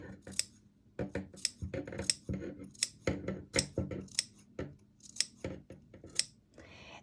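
Scissors snipping fabric corners off a sewn hobo bag near the seam, a quick series of crisp close metallic clips, about a dozen cuts in an uneven rhythm with faint rustling between them.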